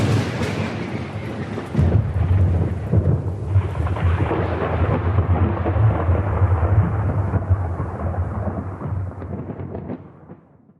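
A thunderstorm rolls on with a heavy, continuous rumble of thunder over steady rain, staying loud throughout before fading out at the very end.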